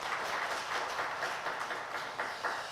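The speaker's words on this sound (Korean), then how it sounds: "우리 하나님 앞에 영광의 박수 올려드리겠습니다." Congregation applauding in church during a Sunday worship service, a faint, even wash of many hands clapping at a distance with no talk over it.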